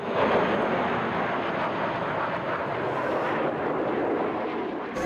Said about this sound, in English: We have 4 Russian MiG jets that will come whipping through this valley.